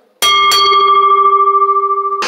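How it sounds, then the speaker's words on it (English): A wrestling ring bell is struck twice in quick succession after a pin at a live ECW tag team title match, leaving a loud, ringing metallic tone that rings on for about two seconds. "ring the bell"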